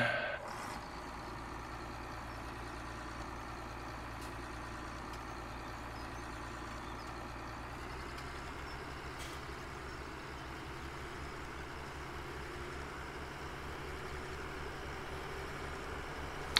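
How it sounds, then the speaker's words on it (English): Tractor engine in Farming Simulator 17 idles steadily at low pitch, a continuous close rumble with a slight shift in tone partway through, no talking over it. "I'm glad the tractor's here."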